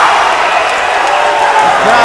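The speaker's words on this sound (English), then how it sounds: "Crowd, well, they're partisan, half are in elation, half are absolutely gobsmacked." A loud, dense boxing crowd roars continuously as the referee stops a Southern Area super-welterweight title fight.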